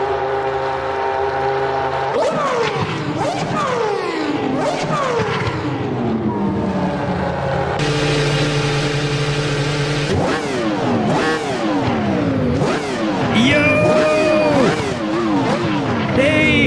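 A Formula 1 car in the Assetto Corsa racing sim at Suzuka screams loudly at high revs, its engine pitch sweeping up and down through rapid gear changes and sustained throughout.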